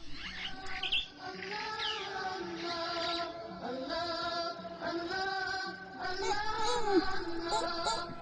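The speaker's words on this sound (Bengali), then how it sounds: "পাখি ডাকার শব্দ" Sea birds chirp and call in the morning, a steady overlapping chorus of high, tuneful tweets that carries on without pause.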